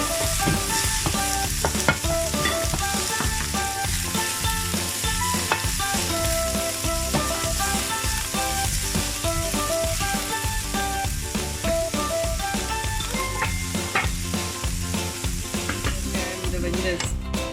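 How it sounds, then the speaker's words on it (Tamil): Sliced onions sautéing in a pan for chilli paneer, with a steady dense sizzle and frying crackle throughout, punctuated by occasional scrapes and stirs of a spoon, close and loud with no talking. "அப்புறம் இந்த வெங்காயத்தை போடுறோம். கொஞ்சம் வதக்கிட்டு"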